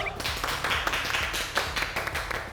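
A few people in a studio clap briefly, quick close claps on a muffled, quiet background with a low rumbling bed underneath.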